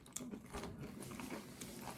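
Someone bites into and chews crunchy onion rings up close, giving soft, faint crunching bursts in an uneven rhythm, with no talk.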